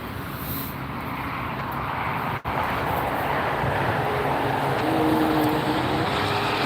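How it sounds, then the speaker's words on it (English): Turkish Airlines Boeing 777-300ER taking off at night from LAX, a steady broad jet engine roar at a distance, holding constant loudness throughout with faint tonal whine. "That was Turkish Airways Flight 10 heading off to Istanbul. Boeing 777-300 series ER."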